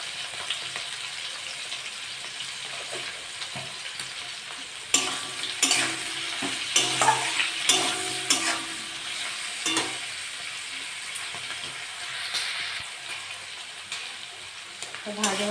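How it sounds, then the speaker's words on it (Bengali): Okra sizzles and fries in a pan with steady hissing, broken by repeated scraping and clattering stirs in the middle stretch, close and fairly loud, with no talking. "ভেন্ডিগুলো ভালো করে ভেজে নেবো।"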